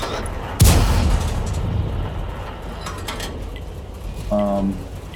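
A single heavy tank gun blast in World of Tanks booms out sharply, then rumbles away under a steady engine drone, with a brief mechanical whine near the end.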